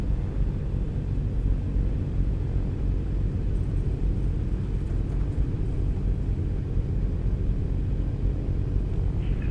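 A Diamond DA42 twin-engine aircraft taxiing in a flight simulator, a steady low engine rumble and drone holding even throughout with no talk.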